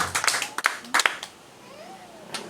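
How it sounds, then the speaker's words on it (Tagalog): A congregation at a religious crusade service claps briefly in a scattered burst that fades out, followed by a quiet pause and a faint voice. "Pumalakpak mo muna lahat sa ating pinakamamahal na Panginoon"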